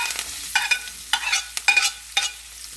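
Onion, garlic and curry leaves sautéing in a pan while making puli kuzhambu, with a soft sizzle under repeated scraping stir strokes, about five distinct spoon scrapes spaced roughly half a second apart, close by.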